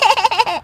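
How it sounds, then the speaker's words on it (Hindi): A baby gives a brief, loud, wavering wail that rises and falls in quick pulses before cutting off, heard alone. "ये बच्चे के रोने की आवाज कहाँ से आ रही है?"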